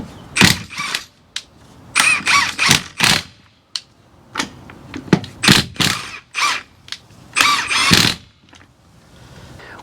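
An impact wrench fitted with a socket on a holder fires in repeated short, rattling bursts, loud and close, separated by brief pauses.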